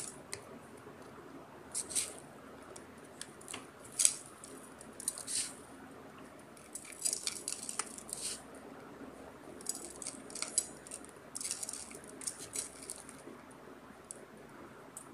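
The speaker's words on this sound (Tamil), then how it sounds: "இப்போ இந்த 4 மாங்காயும் ரெண்டு பக்கமும் கீறி நல்லா அழுத்தி அழுத்தி உப்பு போட்டு வச்சிடணும்" Salt is pressed into slit raw mangoes for pickle, making faint, irregular wet squishes and gritty crunches, close and quiet, with brief pauses between presses.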